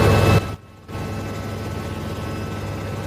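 A helicopter's steady low engine drone and rotor noise, briefly dipping then resuming at a constant level, fairly close with no talking.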